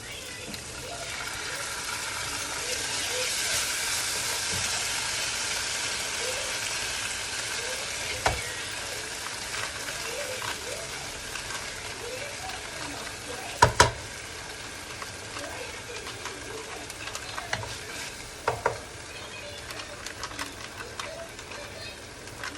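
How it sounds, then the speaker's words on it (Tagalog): Fish curry sauce simmers and sizzles in a pan as it is stirred, a steady frying hiss punctuated by scattered utensil scrapes and knocks, with a voice talking at times. "Haluin ko po yung yung sauce ng curry fish saka asam"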